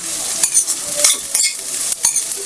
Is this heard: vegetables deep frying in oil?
yes